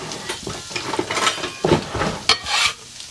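Half an onion is stirred into a frying pan while making a red beef enchilada casserole. Close, uneven scraping and shuffling strokes come over a light sizzle, with no talking.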